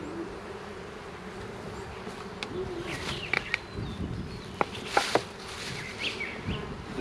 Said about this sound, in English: Decent little colony of bees here